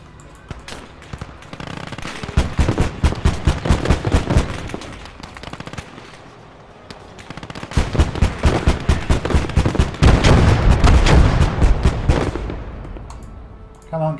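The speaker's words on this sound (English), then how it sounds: "Because we're getting shot at here." Bursts of rifle and machine-gun fire in the WWII strategy game Gates of Hell: Red Star Rising, dense rattling volleys that swell and fade in waves, with a voice talking over the shooting.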